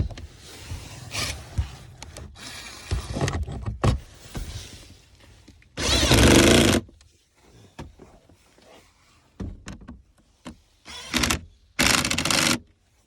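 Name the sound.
power tool tightening glove box screws, Ford Fusion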